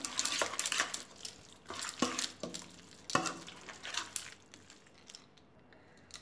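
A spoon stirs Kitchen King spice mix into appam batter, making wet scraping and sloshing strokes in uneven bursts that grow softer and trail off near the end.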